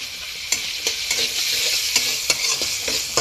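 Potatoes sizzle in hot oil with meat, a steady bright hiss broken by regular scraping knocks as a spoon stirs the pan.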